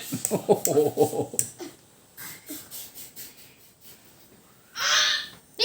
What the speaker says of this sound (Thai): โอ้เป็ด